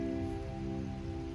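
Steady rain patters on a golf course, a soft continuous wash of drops with dripping from a hat brim, faint and even throughout with no voices.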